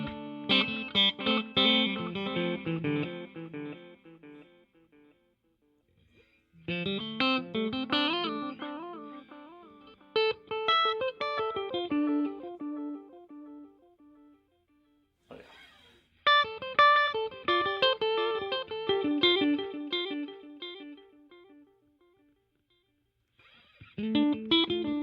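An electric guitar played through a Donner digital delay and reverb combo pedal, with phrases of notes trailing off into fading echo repeats between short pauses, moderately loud and alone.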